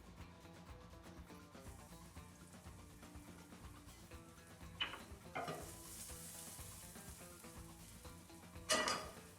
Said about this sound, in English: Garlic and chili can go in.